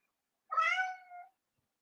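A house cat gives a single clear meow, close and fairly loud, rising then trailing off over about a second, alone against silence.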